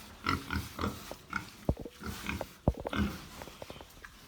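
Piglets grunt repeatedly nearby in short, uneven snorts and squeaks, several animals overlapping with the shuffling of a pen.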